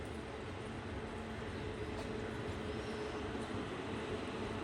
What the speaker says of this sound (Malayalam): തലകുപ്പ മൈസൂരു കുവേമ്പു എക്സ്പ്രസ് ഇതാ കടന്നു വരികയാണ്